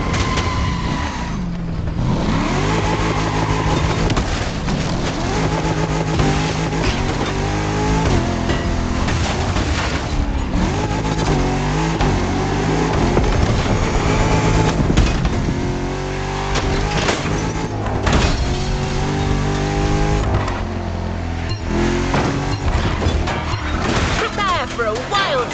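Cars race through the night streets of Honolulu in The Crew Motorfest, with engines revving and roaring continuously beneath a loud, dense mix of music-like tones and occasional crash-like hits.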